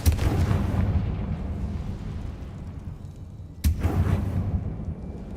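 The Confringo blasting spell goes off in the Hogwarts Legacy video game: one heavy, booming explosion at the start and a second sharp blast a few seconds later, each trailing off into a low rumble.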